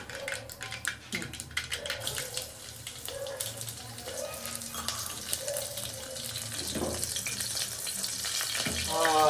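Curry leaves and garlic crackle and sizzle in hot tempering oil, a steady frying hiss that grows louder toward the end, with faint talk behind it.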